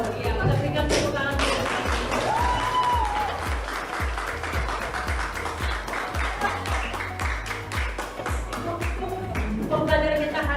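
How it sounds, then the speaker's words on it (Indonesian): Students in a classroom clap in a brisk, steady rhythm that runs throughout, close and fairly loud, with a voice briefly heard over the clapping. "Iya, kita berikan tepuk tangan."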